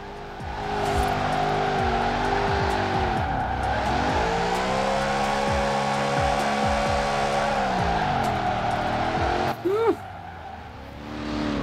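A Lexus RC F with a 5.0 V8 and body kit drifts in the racing game Forza Horizon 4. The engine drones loudly and steadily, its pitch swooping through long slides, with tire squeal throughout and a brief sharp burst near the end.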